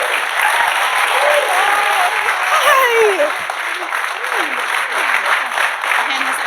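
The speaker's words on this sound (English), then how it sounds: "I'm not even paying you guys to clap like that." A theater audience applauds and cheers loudly and steadily as the evening's moderator, actress Chrissy Metz, is welcomed onstage, with scattered whoops rising above the dense clapping throughout.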